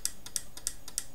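Electrical relay switching on and clicking in a small generator test rig, a rapid series of sharp, evenly spaced ticks at a steady rhythm, fairly faint and close.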